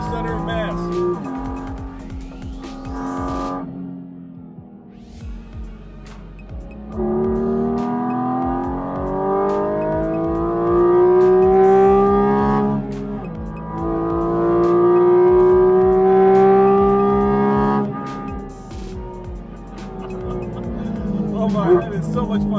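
A Porsche 718 Cayman GT4 RS engine drops through quick downshifts, then climbs in loud rising revs across repeated hard accelerations on a race track, with tyre noise and someone talking over the engine.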